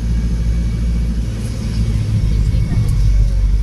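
Street traffic on Recto in Manila: a loud, continuous low rumble of car engines passing close by, steady throughout with no clear pauses.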